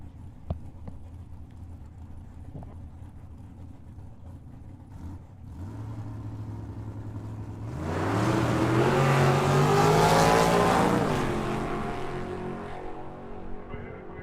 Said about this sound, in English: Bring up Brian Lopez here on the left side in that Gen 3. Camaro and Nathan DeMarco in the dragster over on the right side